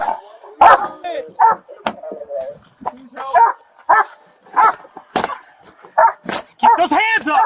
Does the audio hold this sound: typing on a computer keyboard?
no